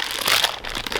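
A plastic marshmallow pack crinkles and crackles as it is torn open, a quick, close burst of rustling lasting about a second.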